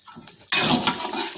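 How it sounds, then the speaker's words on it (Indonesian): Water poured into a hot pan while cooking sweet-and-sour fried eggs: a sudden broad rushing hiss and sizzle starts midway and holds steady and close to the end. "Selanjutnya di sini kita masukkan air."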